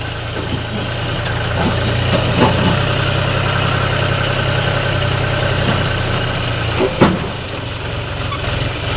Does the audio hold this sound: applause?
no